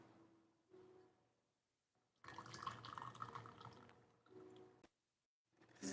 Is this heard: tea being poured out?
yes